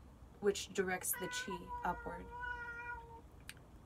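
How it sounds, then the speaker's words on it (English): A house cat meows in a drawn-out, tonal cry that rises and falls, heard close by just after a person speaks calmly during a breathing exercise. "Sorry, that's my cat."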